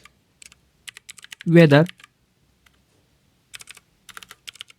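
Soft key clicks tap out in scattered bursts while code is typed on a computer keyboard for a weather web app, with a brief spoken word in between.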